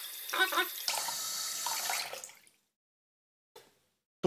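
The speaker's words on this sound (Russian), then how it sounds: "Теперь берем, снимаем слой бумаги под струйкой воды." Tap water runs in a steady stream as paper is rinsed and rubbed off a toner-printed copper circuit board, loud for about two seconds, then stopping, with a brief splash later.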